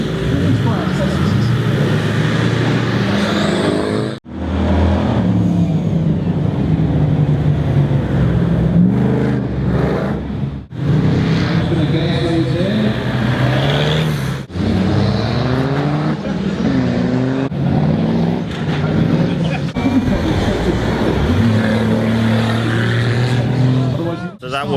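An Ultra 4 off-road race car runs around a course, its engine roaring loudly and rising and falling in pitch through repeated gear changes, with brief gaps where the sound cuts away.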